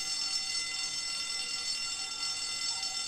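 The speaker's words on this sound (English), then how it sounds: "She pulled the fire alarm." Continuous high-pitched fire alarm ringing, an unbroken electronic tone holding at an even level from start to finish with nothing else prominent.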